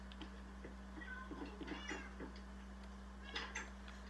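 A Minecraft cat meowing inside the video game, several soft, quiet mews scattered across a few seconds over a low, steady electrical hum, with no speech.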